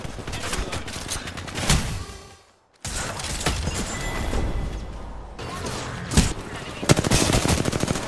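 Sustained automatic gunfire in Apex Legends rattles loudly through the stretch, broken by a short silent gap, then resumes with dense bursts and sharp cracks, with players talking faintly underneath.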